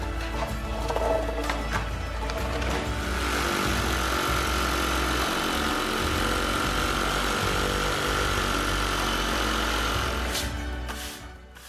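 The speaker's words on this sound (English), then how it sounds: "I used my SDS drill to drill into the concrete for the fixings" An SDS hammer drill bores into a concrete garage floor, giving a loud, sustained rattling drone for several seconds that starts after a few brief bursts and cuts off near the end.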